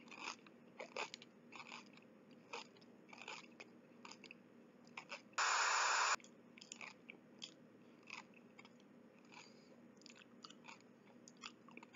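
Crunchy biting and chewing of unhatched spider eggs, a run of close, sharp crunches and wet mastication with one loud burst of noise in the middle, no talk.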